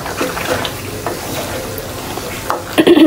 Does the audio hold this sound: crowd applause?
no